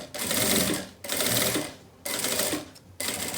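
Sewing machine stitching a strap onto a plastic canvas beach bag, three loud, steady bursts of rapid mechanical whirring close up, each separated by a short pause.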